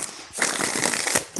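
Tarot cards being shuffled by hand in a single brisk burst of riffling, close and moderately loud, with no talking.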